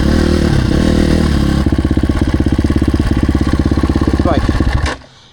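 A Yamaha YZ250F dirt bike runs close by with a loud, steady four-stroke engine drone that pulses rapidly, then cuts off abruptly near the end.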